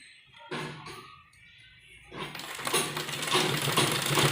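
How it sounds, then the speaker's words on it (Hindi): A sewing machine runs a straight seam on a kurta sleeve, with quieter handling sounds at first, then a steady whirring stitch that builds and holds loud for the last couple of seconds. "तो यहाँ पर हम सीधी सिलाई लगाएंगे।"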